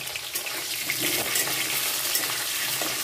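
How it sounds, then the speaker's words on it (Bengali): Potato pieces frying in hot oil, making a dense, steady, close hiss that runs the whole time without pause. "এবার আলুগুলোকে ভেজে নেব। আলুগুলোকেও আমি লাল লাল করে ভেজে নেব।"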